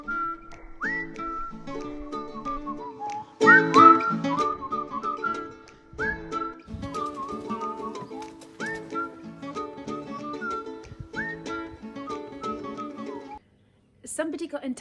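A person whistles the Bonnie Gardener theme tune, a clear, close melody of repeating phrases with a louder, busier passage near the start, then stops abruptly.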